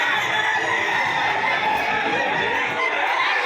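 Rooster at a gamefowl auction, crowing and clucking over a dense, noisy crowd of voices with an auctioneer calling bids.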